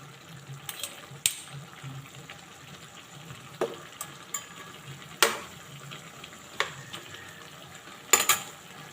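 Carrots and potatoes cooking in a pan for Bicolano-style igado, a soft, steady sizzle broken by scattered clinks and scrapes of a utensil against the pan.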